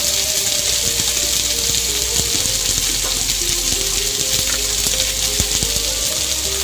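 Ground ginger and cumin paste with a little salt sizzles and fries in hot oil in a pan, a loud, continuous hissing crackle with faint scraping underneath.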